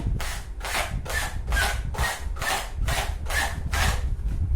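A balloon is rubbed with a silk cloth in about nine steady back-and-forth strokes, each giving a close, dry scratchy swish with short pauses between.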